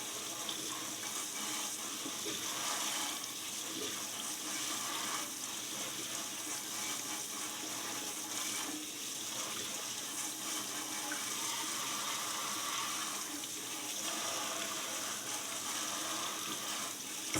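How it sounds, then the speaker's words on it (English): Tap water running steadily to soak a small pony's front horseshoe, a continuous moderate gush and splash with no talk. "Get the whole thing soaked, get it nice and wet to loosen up all that dirt inside there."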